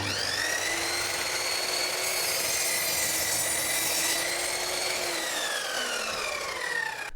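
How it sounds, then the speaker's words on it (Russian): A hand saw cuts through wooden boards for a rustic handmade bed in a village, a steady continuous rasping with rising and falling whine, close and loud throughout with no talking. "И отрежем нужные кусочки. Как хорошо, что пила у нас подходящая есть"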